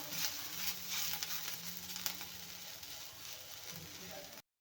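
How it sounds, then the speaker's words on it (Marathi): Onion frying in oil in a pan for a spicy mutton curry, a faint steady sizzle with light crackle, close by and fairly quiet. "कांद्यात पण मी थोडंसं तेल घालून आता हे भाजून घेत आहे थोडासा आणखी गोल्डन करून घ्यायचा आहे कांदा"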